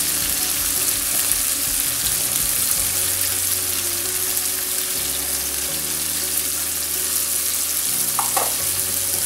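Chopped green garlic dropped into a pan of achari mixed vegetable masala, frying with a steady, close sizzle and crackle that runs continuously, with a brief clink of a utensil near the end.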